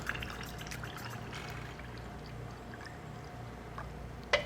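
Cola is poured straight onto Jack Daniel's whiskey in an ice-filled glass, a soft steady stream of liquid running for several seconds at close range, with no voices, ending in a brief bright clink.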